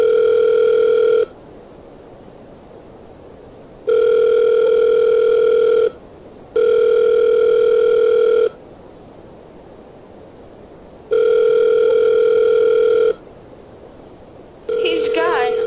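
A telephone line rings back in an old radio drama, a loud steady two-tone buzz in long bursts separated by silent gaps, five rings in all. No one talks.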